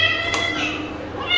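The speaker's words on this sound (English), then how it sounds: "first off we have the cat." A cat meows close by, one drawn-out tonal cry with a brief sharp onset and a second short call starting at the end, loud and clear over faint room noise.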